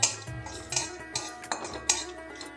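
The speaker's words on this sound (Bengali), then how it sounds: "কড়া গরম করে নিয়েছি এবার দেখুন খুব সামান্য জিরে আর একটা গোটা শুকলো লঙ্কা দিলাম তা হালকা একটু নেড়ে নেব কয়েক সেকেন্ড" Cumin seeds and a whole dried chili stirred briefly in a hot wok, with faint, close metal clinks and scrapes of a spoon against the pan at irregular intervals.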